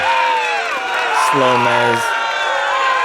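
A gallery of spectators at a disc golf final in the 2019 NHM whoops and cheers after a made putt, loud rising voices swelling in the middle while a commentator talks over it.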